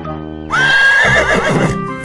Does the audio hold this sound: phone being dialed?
no